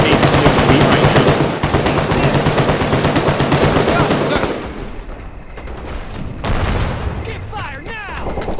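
Sustained machine gun fire from allied MG positions during a Vietnam War battle at Khe Sanh in a Medal of Honor video game, loud dense bursts for several seconds, then easing into scattered distant shots and booms.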